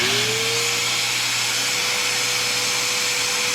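A Dewalt Stealthsonic shop vac draws air through a connected sander, producing a continuous, fairly loud whooshing hum whose pitch rises as it spins up and then holds steady, with no speech.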